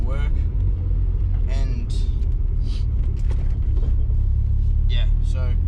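Nissan 300ZX on a road drive, steady low engine and road rumble running throughout, with a voice talking over it.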